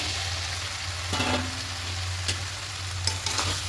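Boiled potatoes and peas stir-fried in a pan for vegetarian ghugni with paneer, a steady low sizzle with scraping spatula strokes now and then, close and with no talking.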